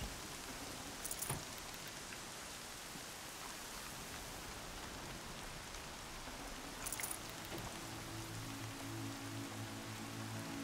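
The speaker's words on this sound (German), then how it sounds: "Der Regen ist viel zu laut, als dass man etwas hören könnte." Heavy rain in the video game Horizon Zero Dawn, a dense steady hiss of downpour with a couple of brief crackles and a low tonal hum entering toward the end.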